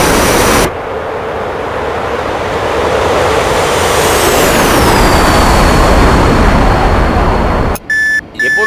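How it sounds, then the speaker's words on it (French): Landing gear extends on an F-5 Tiger jet, heard as a loud, continuous rushing roar of airflow and engine that builds slightly, with a falling whine and a few short electronic beeps at the end. "Sorti le train d'atterrissage."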